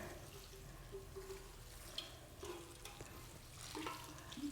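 Water is poured onto a freshly repotted, rather dry large houseplant, giving soft splashing and trickling into soil with a few small drips, faint and uneven, with no voices.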